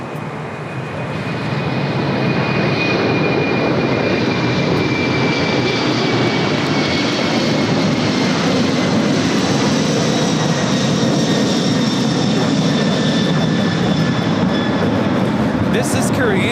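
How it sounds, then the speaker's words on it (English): A Korean Air Cargo Boeing 747-400 freighter takes off at LAX with a loud, steady jet roar and a high engine whine that slowly falls in pitch. The sound holds close and powerful throughout. "This is Korean Air Cargo 214 taking off to San Francisco on the 747-400 freighter."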